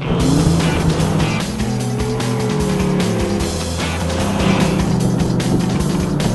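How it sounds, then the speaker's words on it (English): A 1970 Ford Mustang Boss 302 sports car driving, its engine giving a loud, sustained, rumbling roar with shifting pitch up close, steady throughout with no talking. "This is the Boss 302, 1970 sports car of the 70s, actually."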